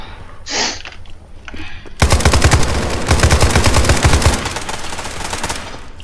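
Rapid automatic gunfire from a weapon in the video game SCP5K erupts after a quieter opening and holds as a loud, dense, continuous burst for several seconds before easing slightly.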